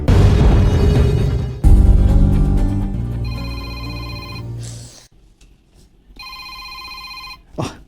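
A telephone rings in two bursts of steady, bright electronic tone after a swell of dramatic background music, with a brief quiet gap between the rings and no talk over them.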